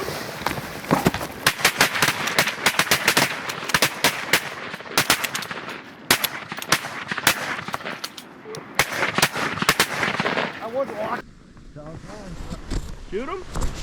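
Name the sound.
shotgun shots while goose hunting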